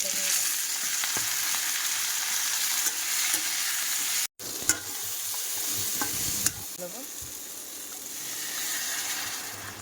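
Bay leaves and panch phoron crackle and sizzle in hot oil, a loud, steady frying hiss with a brief cut partway through and a few sharp spits and stirring scrapes; no one talks over it.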